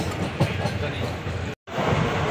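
A passenger train bound for Kochi rumbles steadily along the rails, a continuous loud ride noise heard from inside the carriage, with voices murmuring faintly under it and a sudden brief dropout near the end.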